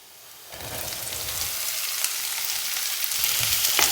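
Chopped onions dropped into hot oil with ginger and garlic for an egg curry, a sudden loud sizzle that rises and settles into a steady crackling hiss, no voices.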